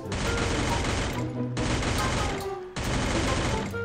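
Sustained automatic fire from a P90 submachine gun in the game Free Fire, three long continuous bursts with brief gaps between them, loud and close.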